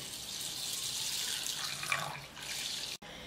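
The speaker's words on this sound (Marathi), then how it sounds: "ह्या डाळीला आहे ना स्वच्छ धुवायची मग भिजायला घालायची." Tap water runs steadily into a sink as a bowl of mung dal is rinsed, a continuous close hiss with a brief swirl and splash partway through before a sudden cutoff.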